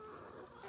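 Young backyard chickens clucking softly close by, a brief murmur of low fowl chatter with no talking.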